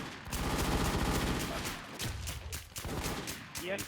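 Rapid bursts of gunfire from a shooter video game, loud and close, crackling in dense repeated volleys with brief gaps, a voice faintly underneath.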